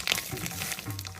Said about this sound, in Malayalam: കടുകിട്ട് പൊട്ടിച്ചു, ഉലുവ ചേർത്തു